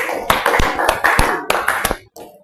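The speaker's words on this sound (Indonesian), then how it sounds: "tepuk tangan dulu untuk kelompok 1" A small group gives brief, scattered applause: a handful of sharp, close claps in an uneven rhythm, stopping abruptly after about two seconds.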